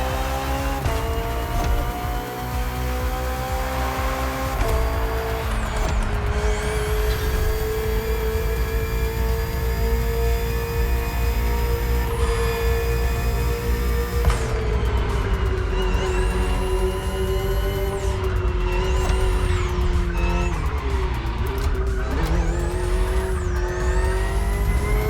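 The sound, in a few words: BMW M Hybrid V8 race car driving, The Crew Motorfest video game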